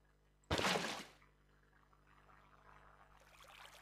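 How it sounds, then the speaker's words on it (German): Water gushes out in Minecraft with a sudden loud pour lasting about half a second, then fades into a soft trickling stream that continues quietly. "Lass hier schon mal ein bisschen das Wasser fließen."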